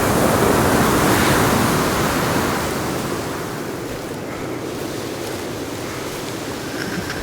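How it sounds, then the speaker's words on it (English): Loud, steady wind roars across an outdoor scene in the survival video game Sons of the Forest, a broad rushing hiss that eases slightly after a few seconds and then holds constant, with no talk. "This wind loud as fuck."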